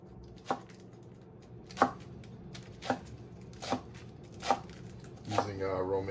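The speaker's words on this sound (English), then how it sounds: "Now we need our shredded lettuce." Knife chopping romaine lettuce on a cutting board, six sharp separate cuts spaced roughly a second apart, close and moderately loud over a low steady background hum.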